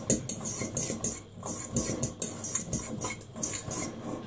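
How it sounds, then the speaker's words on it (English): A spoon works through tuna crunch with cucumber, celery and spring onion in a bowl, giving a steady run of scraping and light clinks of cutlery against dish, close and fairly even, with no talking. "Give it a stir."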